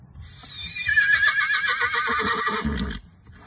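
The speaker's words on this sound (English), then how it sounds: "H for horse." A horse whinnies in a long, loud, quavering neigh lasting a few seconds, with a low thud or snort near the end and no voices.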